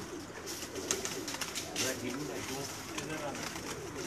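Pigeons coo softly in a rooftop loft as voices talk over them and steady background noise continues.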